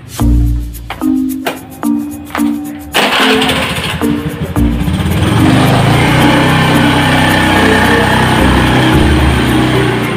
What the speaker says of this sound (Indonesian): Tah Sari puguh naik motor